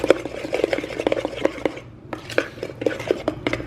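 Derby pie batter is mixed by hand in a bowl held under one arm, a spoon clattering and scraping in quick, uneven strokes, close and fairly loud, with a brief pause midway.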